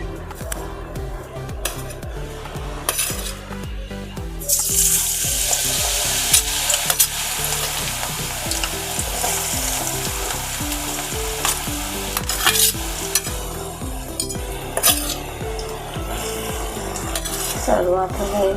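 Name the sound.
garlic, ginger and chilli frying in hot oil in a kadai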